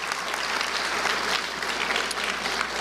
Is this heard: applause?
yes